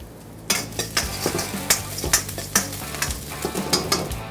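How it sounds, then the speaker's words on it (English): Chopped garlic and ginger fry in a little oil for veg fried rice, giving a steady close sizzle broken by frequent sharp scrapes and clinks of a utensil stirring in the pan. "Need to put a little oil, chopped garlic, 1 teaspoon of ginger. Just fry it a little bit."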